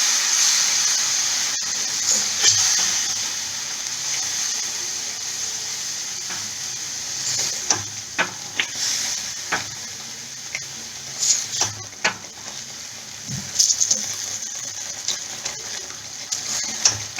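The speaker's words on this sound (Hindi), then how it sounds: "तो अब इसमें हम पानी मिलाएंगे, वो वही वाला पानी है जो हमने गोभी में डाला था।" Water poured into a sizzling spice masala while making gravy for a whole roasted cauliflower dish, giving a hissing sizzle with splashes and small clinks and bubbling pops scattered through it, close and fairly loud.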